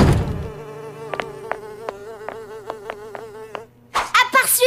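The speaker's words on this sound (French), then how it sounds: "Oh, une mouche." A cartoon fly buzzes in a sustained, wavering drone punctuated by a series of sharp clicks or taps, close and prominent, before a brief burst of noise at the end.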